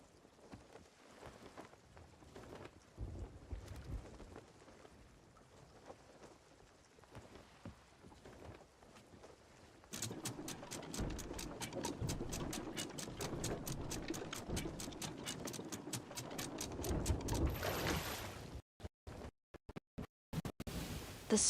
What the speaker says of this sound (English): The storm is still raging, and you're struggling to keep your bearings.